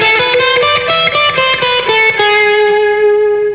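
An electric guitar with a distorted, reverberant tone plays a quick run of single notes up and down a harmonic minor scale, then ends on a sustained note that rings out.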